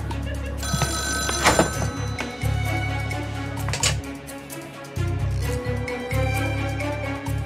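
A telephone rings in repeated bursts of electronic bell tone with short gaps between them, loud and close, with faint background clatter.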